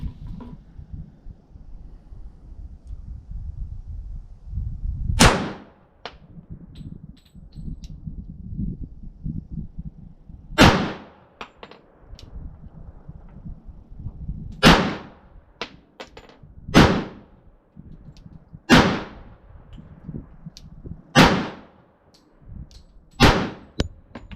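A 1911 pistol fitted with a Valkyrie Dynamics compensator, firing 230-grain reloads; seven loud, sharp shots ring out alone at irregular intervals of a few seconds over faint wind and background rumble.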